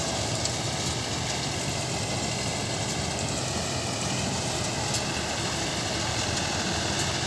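A paddy harvester machine cuts sorghum stalks in a field, its engine giving a loud, steady, unbroken drone throughout, with no pauses or changes in pace.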